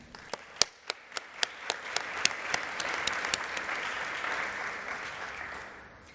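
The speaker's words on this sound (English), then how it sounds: "Please join me now in a round of applause for these hardworking members of our Capital family" Audience at a homecoming alumni awards dinner applauding catering and event staff. A few loud, distinct claps open it, then it swells into dense sustained applause that fades toward the end.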